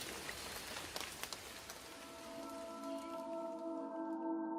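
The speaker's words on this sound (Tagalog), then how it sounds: "Ay basang-basa na kayo ng ulan" Heavy rain patters on a surface in a dense hiss of drops, fading as a sustained musical tone rises underneath and takes over toward the end.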